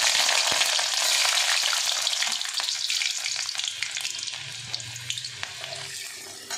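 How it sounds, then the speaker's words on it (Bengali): Whole garlic cloves and nigella seeds sizzle in hot oil in a pan, a loud, dense, crackling hiss that starts strong and eases off a little, with small pops throughout and no voices. "তেলটা আমার অলরেডি গরম হয়ে গেছে, কালো জিরে ফোড়ন দিয়ে দিলাম। এর মধ্যে আমি দিয়ে দেবো গোটা রসুনগুলো"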